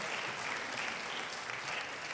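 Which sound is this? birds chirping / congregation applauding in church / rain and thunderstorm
congregation applauding in church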